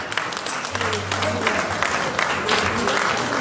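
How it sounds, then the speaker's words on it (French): Guests at a 60th birthday party in Montmagny applaud warmly, a dense, steady clapping close by that fills the whole stretch without a break. "On applaudit pour lui très très fort."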